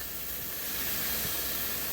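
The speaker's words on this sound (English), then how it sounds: "do y'all hear that sizzle? So this is starting to cook now." A rice dish sizzles steadily in a pan as it starts to cook from partly frozen, a continuous close, even hiss with no speech over it.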